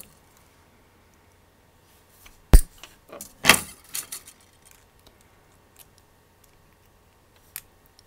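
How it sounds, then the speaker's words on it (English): Thin wire being wrapped and the excess snipped on an earthenware heart pendant, heard as two sharp metallic clicks followed by small faint ticks, close-up and otherwise quiet. "I'm going to wrap it around one more time and cut the excess off."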